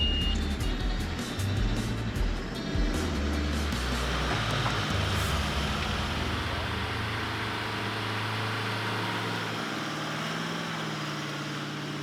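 A 4WD vehicle drones steadily in the mud while taking up the slack on a snatch strap to pull a caravan free, its engine rumbling continuously and fairly close for about twelve seconds alongside a faint beeping tone.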